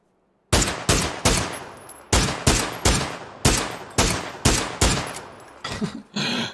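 Rapid PUBG gunfire rings out in a series of about eight sharp, loud bursts, each decaying quickly, with a denser, rougher volley near the end.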